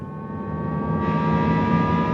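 Synthetic acceleration sound created for the Jaguar I-Pace electric SUV, a steady engine-like hum and whir with layered tones that swell brighter partway through, rising as if gathering speed, loud and close with no talk.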